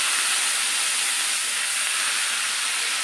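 Greens fry in a hot pan with a steady, loud, hissing sizzle that goes on without a break and without talk.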